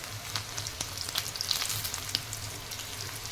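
Potato pieces frying in hot oil for dum aloo as they turn crisp and brown, a steady close sizzle with scattered pops and crackles, no talk.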